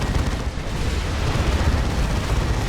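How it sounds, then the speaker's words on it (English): Flame storm cannons blast a Guardian unit in a Dawn of War 2 3v3 battle, a dense, loud, continuous roar of booming fire and rumbling explosions with no pause. "Those big flame storm cannons just roasting the Guardian alive."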